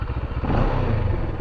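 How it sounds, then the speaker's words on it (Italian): A Moto Morini X-Cape 650 motorcycle engine rumbles loud and close with a throbbing, pulsing idle that swells into a deeper roar as it is revved. "Senti il rombo, senti."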